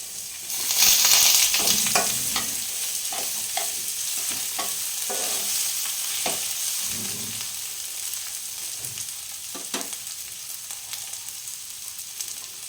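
Washed moong dal frying in a pan with oil, a soft steady sizzle broken by scraping stirs and the rattle of grains being moved around, with no one speaking.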